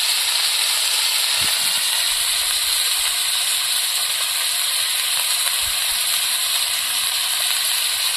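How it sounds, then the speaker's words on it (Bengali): Squash with green chilli, tomato, salt and turmeric sautéing in a pan gives a loud steady hiss of sizzling, broad and unbroken throughout with a couple of faint knocks and no speech. "সবজিটা ভালো করে কষিয়ে নেব"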